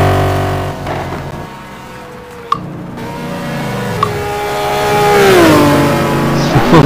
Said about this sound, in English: we've got Sam Rolfe coming around in the background in the McLaren F1